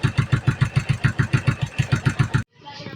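A Yamaha Sniper 135 motorcycle engine idling close by, a fast, even chugging pulse that cuts off abruptly near the end, leaving a faint hiss.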